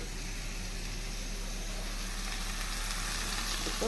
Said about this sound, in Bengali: মাংসটা ভাজা হয়ে গেছে